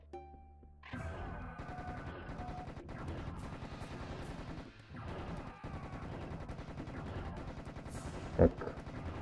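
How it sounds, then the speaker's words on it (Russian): Heavy, rapid plasma rifle alternate fire in Serious Sam, with dense bursts of shots over rumbling music, a short pause midway, then more blasts. "Скорпион, которого мы бахнем альтернативным огнем из плазменной винтовки"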